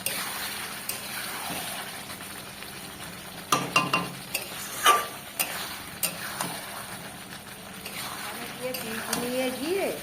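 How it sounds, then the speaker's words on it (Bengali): Potatoes with goat fat being stirred and sautéed in a pan, a steady hiss of frying with soft scraping and clinks of a spoon against the metal, close and even, a few louder knocks midway. "আলুগুলো দিয়ে আরেকটু কষিয়ে নেব।"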